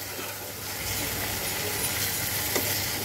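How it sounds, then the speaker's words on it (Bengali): Fried prawns added to a spicy masala sizzle and fry in a pan, a steady soft hiss with faint stirring scrapes, quiet and continuous throughout with no talk. "এখন আমি ভাজা মাছটা দিয়ে দেব।"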